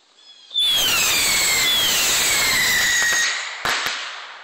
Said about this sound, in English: Firecrackers that were old and wet, and mm-hmm. We lit them